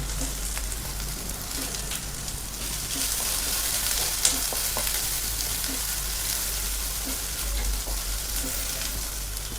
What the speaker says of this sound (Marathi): गोल्डन कलरवरती छान आपल्याला कांदा परतून घ्यायचा. जास्त नाही परतवायचा. त्यामध्ये घालायचा कढीपत्ता.